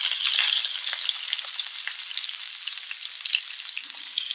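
Marinated prawns sizzle and crackle steadily in a hot frying pan, a dense continuous hiss with scattered pops throughout, close and fairly loud with no voices.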